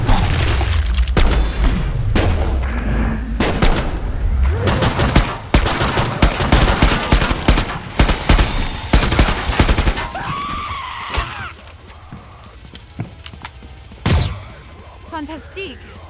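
Killing Floor 2 gunfire rattles in dense bursts of rapid shots and booms, loud and continuous for the first ten seconds, then thinning to scattered shots, with a voice heard briefly.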